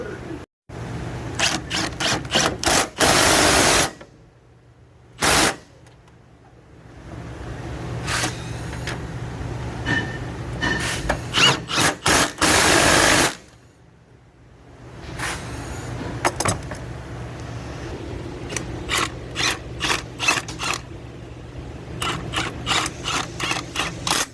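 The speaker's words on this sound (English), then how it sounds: "I'm going to go back through and torque those by hand" Upper engine mount bolts on a 2011-2019 Ford Explorer 3.5L/3.7L being tightened by hand with a wrench, heard as bursts of rapid ratchet clicking and metallic rubbing, loud and close, broken by brief pauses.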